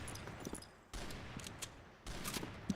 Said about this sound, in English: Fast tapping away with that HK417.